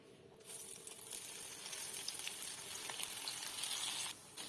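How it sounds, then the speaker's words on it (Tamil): Maggi soya cutlets shallow frying in hot oil in a pan, a steady close crackling sizzle with small spitting pops that runs the whole time, swelling slightly after the first moment. "இதில் நம்ம கட்லெட்டை போட்டுடலாம்."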